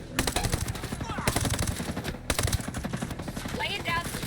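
Automatic gunfire in the tactical shooter video game Ghost Recon Breakpoint, a continuous rapid rattle of shots with short breaks, loud and dense, with voices talking under it.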